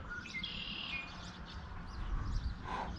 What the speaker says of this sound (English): Wow, that red-winged blackbird's super loud.